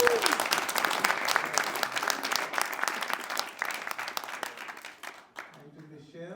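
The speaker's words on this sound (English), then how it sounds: "Please give them a big round of applause." A crowd at a local candidates' meeting claps in a lively, sustained round of applause that thins out toward the end as a voice starts talking.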